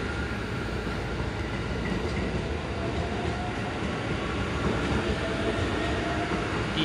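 A JR East E353 Azusa limited express train bound for Shinjuku at Kofu station in Yamanashi gives a continuous, steady rumble of wheels and motors, close and even in loudness throughout.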